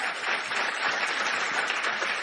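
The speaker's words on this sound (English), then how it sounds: "let's give her a round of applause one more time" A church audience applauds after a testimony, with dense, steady clapping filling the whole short stretch at moderate loudness and no speech over it.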